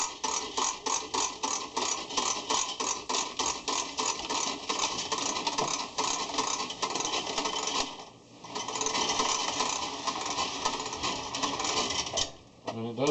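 A Harbor Freight air hose reel retracting its hose gives a fast, continuous ratcheting clatter that runs steadily for over ten seconds with one brief pause, loud and close.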